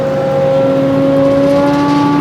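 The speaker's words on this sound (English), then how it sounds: "Right, turn the tractor on, which is supplying the power to the machine." A tractor engine powering a TCI D8 hemp decorticator runs as a steady, loud droning hum, its pitch climbing slightly as the revs build.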